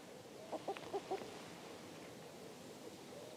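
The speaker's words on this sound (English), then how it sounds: "Totally hear a chicken." A chicken clucks in the fantasy video game King's Bounty II. Four or five quick, fairly faint clucks come in a short burst over a steady background hiss, then the clip goes quiet.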